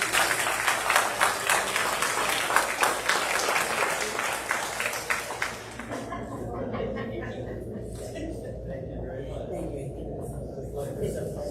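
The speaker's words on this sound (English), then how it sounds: "May we have another round of applause for this?" Applause at a city council meeting: a loud burst of many hands clapping fills the first half, then cuts off abruptly, leaving quieter room noise and faint voices.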